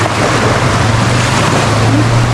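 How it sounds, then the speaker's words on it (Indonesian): Waves wash continuously onto Anyer beach at high tide under a hot midday sun, a loud, steady roar of surf with wind buffeting the microphone. "ini suasana di pantainya teman-teman"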